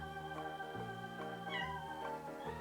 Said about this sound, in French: Je vous remonte le chat.